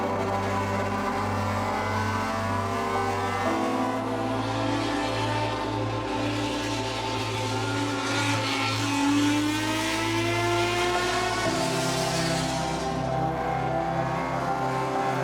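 A 1972 Nissan Skyline GT-R Hakosuka race car engine revs hard and steadily, a loud high-pitched exhaust note with shifting harmonic tones that climb and fall across the whole stretch, no voices.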